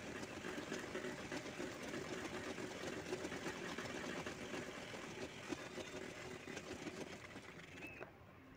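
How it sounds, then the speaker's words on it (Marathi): A sewing machine stitches all the way around two fabric circles for a bag, giving a steady close whirring drone that runs without a break for about eight seconds and then cuts off. Nobody speaks. "दोन्ही पूर्ण सर्कलमध्ये शिवून घ्यायचं आहे"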